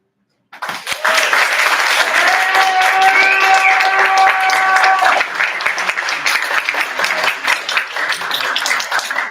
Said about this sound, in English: Keep that round of applause going for Michael.